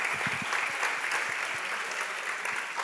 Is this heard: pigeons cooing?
no